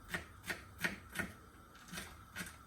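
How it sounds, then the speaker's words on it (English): A knife chopping celery finely on a board, with about seven soft, evenly spaced cuts, faint and close, with no talk. "So right now I'm chopping my celery really small,"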